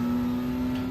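A race car engine in a racing video game at Watkins Glen, holding a steady, loud tonal drone with a slight pitch wobble through one brief, close stretch with no voices.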